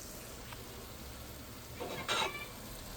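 Turmeric, Kashmiri chili, coriander and cumin are sautéed in a pan for egg curry. There is a faint steady sizzle, with a louder stirring scrape near the end.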